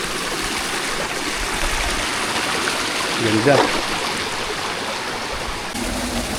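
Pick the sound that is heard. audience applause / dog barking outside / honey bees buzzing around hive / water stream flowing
water stream flowing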